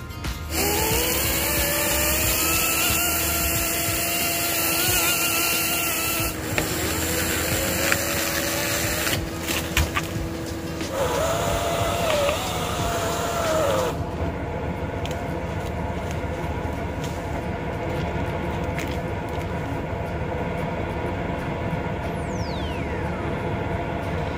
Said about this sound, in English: finally this chainsaw came in use for something real, not just chopping wood